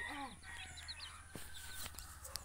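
Chicken clucking close by in short soft calls, with faint chirps and light clicks over a low background hum; quiet overall, no talk.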